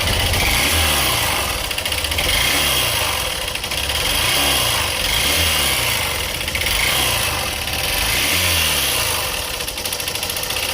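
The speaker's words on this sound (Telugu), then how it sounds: "ఈ బైక్ స్టార్ట్ చేస్తే సౌండ్ అయితే వినండి." A Hero Glamour BS6 motorcycle engine runs steadily nearby, its pulsing mid-pitched idle swelling in slow, repeated surges with a mechanical rattle, and no one speaks.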